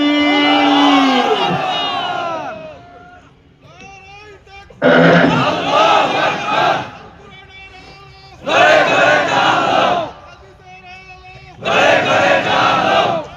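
A large crowd at a religious sermon gathering chants the takbir in response, three loud unified roaring bursts answering a preacher's calls, each lasting about two seconds, with amplified speech in between.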